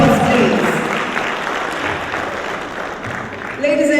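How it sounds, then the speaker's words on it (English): Round of applause from the audience at the Jamaica Agri-Business Investment Forum 2025, a sustained wash of clapping that fades slightly then swells again, with a voice speaking over it at the end. "Round of applause."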